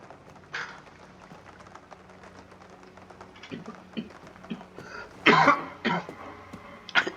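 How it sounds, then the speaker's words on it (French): A few sharp coughs near the end, close and fairly loud, after a quieter stretch with soft rustling. "Désolé si vous m'avez entendu tousser, j'ai essayé de masquer ça"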